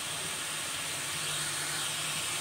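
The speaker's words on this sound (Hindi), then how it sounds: "अब मैं इसमें लहसुन अदरक का पेस्ट जो है उसको अच्छे तरीके से भूनूंगी" Garlic and ginger paste fries in a pan for a chicken pilaf, giving a steady, even hiss and sizzle that holds at the same level throughout with no voices.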